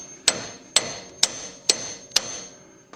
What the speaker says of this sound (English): I'm going to keep pounding that on